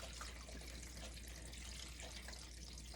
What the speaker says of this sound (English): now all we're gonna do is dump the brine mixture that we put together over our turkey slowly